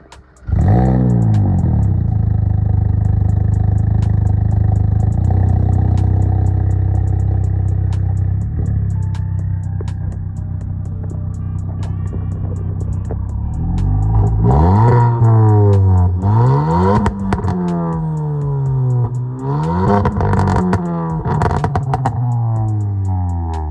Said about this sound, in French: Bon voilà, bon les gars, on va écouter le moteur.